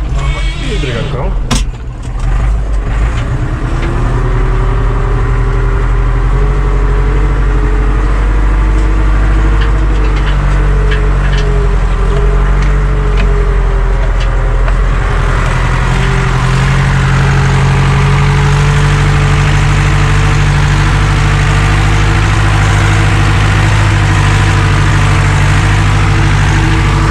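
A Deutz DX tractor pulling a heavy load during forest log skidding runs in low gear, its engine a loud, steady, close rumble throughout with a slight rise in tone partway through.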